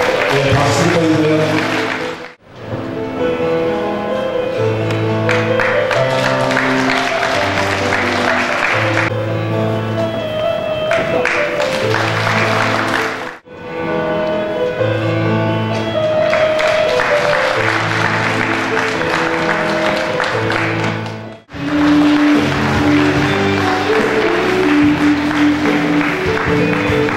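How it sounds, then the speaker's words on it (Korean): Audience applause at a credit union management award ceremony, a dense steady wash of clapping blended with loud background music, breaking off briefly twice before resuming. "박수 보이세요."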